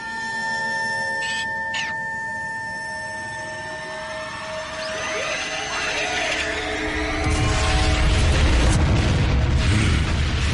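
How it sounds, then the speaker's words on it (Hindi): A blast tears across the space bridge amid whining mechanical tones and sweeping sci-fi sounds, building into a loud, rumbling burst with crackling debris near the end. "स्पेस ब्रिज पर हुआ धमाका,"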